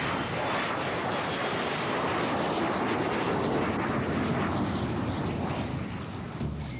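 Jet aircraft engine roaring at full power during a launch for flight, a loud, steady, broadband rush that holds constant throughout with no voices.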